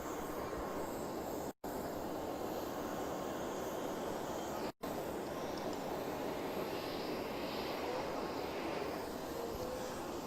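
Steady broadband roar of an airplane at Freetown International Airport in Lungi, a continuous loud engine wash with two brief dropouts, no voices.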